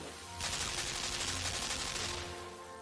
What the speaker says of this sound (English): there are these machine guns